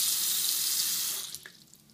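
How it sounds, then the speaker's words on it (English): Hot water runs hard from a tap into a sink, a steady loud rushing splash that cuts off near the end, leaving a faint drip and quiet room tone. "and you're going to add hot water."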